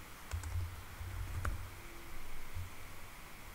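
Soft, rapid clicks of typing on a computer keyboard come in a short, quiet burst over a faint background hiss, with no talking.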